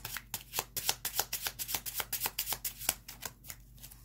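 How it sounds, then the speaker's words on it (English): Rapid, crisp flutter of tarot cards being shuffled, a quick run of soft slaps repeating in an uneven rhythm, close and fairly quiet. "Let's shuffle these again."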